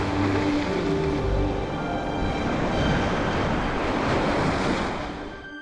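Surf rolls onto Haeundae Beach in Busan, South Korea, a loud, continuous wash of breaking waves close by, swelling and easing without pause, with no voices.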